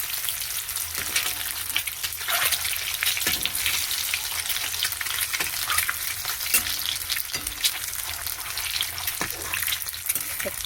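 An egg fries in a pan with a little turmeric and gram flour, producing a continuous crackling sizzle with repeated spatula scrapes and taps throughout.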